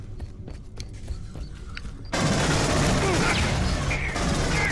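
Gunfire and an explosion in the sci-fi shooter Aliens: Colonial Marines, with sharp scattered shots giving way to a dense, loud roar of blast and sustained firing that fills the rest of the clip.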